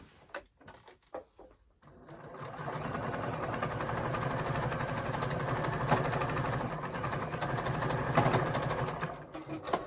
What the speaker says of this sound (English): you put right sides together and sew this at a 1/4 inch seam